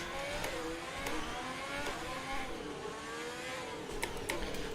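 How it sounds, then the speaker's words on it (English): Race car engine in the F1 2020 video game, revving up and down through gear changes with a high, sweeping whine, steady and fairly quiet throughout with no talk. "The engine's quite loud for me."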